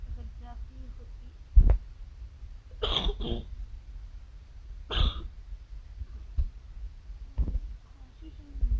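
A person playing Minecraft coughs several times in short, separate bursts spread over a few seconds, faint and close, against a quiet background.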